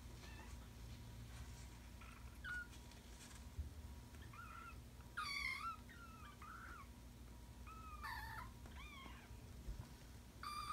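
A kitten with physical issues lets out several annoyed meows, short and high, spaced irregularly across a quiet room, close but fairly soft, with a faint low hum underneath.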